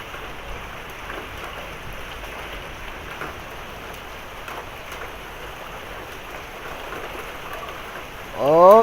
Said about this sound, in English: Oh, the hail's getting worse.